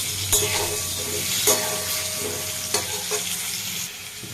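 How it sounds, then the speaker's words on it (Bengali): Potatoes fry in oil in a pan while being cooked for a mutton dish, giving a continuous close sizzle broken by periodic stirring scrapes, with no one speaking. "আর আলুগুলোকে আমি একটু লাল লাল করে ভেজে নেব, সেদ্ধ করবো না, ভেজে নেব।"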